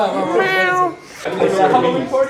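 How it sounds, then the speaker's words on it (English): A cat gives two drawn-out, wavering meows close by, one after the other with a brief dip between them. "cat."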